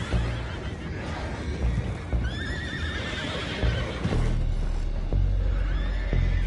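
Horses in a PS5 video game let out a couple of rising, shrill whinnies amid soft hoof clip-clops and background rumble.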